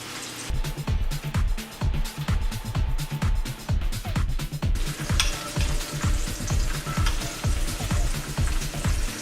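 Vegan hearts-of-palm scallops sizzle steadily in a hot pan, a close, continuous crackling fry with repeated clicks and pops of utensils against the pan throughout, no talking.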